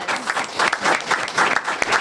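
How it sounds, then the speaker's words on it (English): Dense applause from a crowd, steady clapping with no pauses, close and fairly loud. "Big round of applause."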